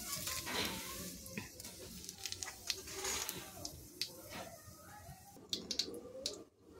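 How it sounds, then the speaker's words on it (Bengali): Whole cumin seeds and two bay leaves crackle and sizzle faintly in hot white cooking oil, a soft steady hiss with scattered pops, while birds chirp quietly in the background. "তো এবার তেলে দিয়ে দেব সামান্য পরিমাণ জিরে, গোটা জিরে ফোড়ন হিসাবে, আর দিয়ে দিচ্ছি 2টো তেজপাতা।"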